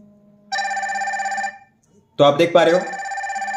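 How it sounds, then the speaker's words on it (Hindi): Incoming-call ringtone from a Noise ColorFit Icon 2 smartwatch, a steady repeating electronic ring lasting about a second, then a louder burst of ringing that overlaps with someone speaking nearby. "रिंग भी बज रही है और वाइब्रेट भी हो रही है वॉच।"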